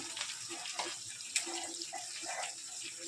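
Water from a tap runs steadily into a spice bowl, rinsing out a paste of coriander, cumin and chilli, with soft splashes and one sharper clink.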